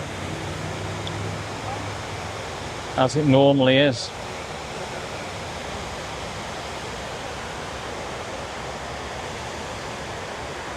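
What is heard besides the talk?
water running in the North Tower memorial pool waterfall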